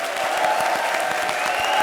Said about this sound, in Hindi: चलो सोहेल अंकल, ताली ठोको।